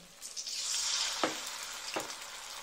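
Shrimp-stuffed fritters frying in oil, a bright sizzle that swells early and stays steady, broken by two sharp scraping stirs, close and fairly quiet with no voices.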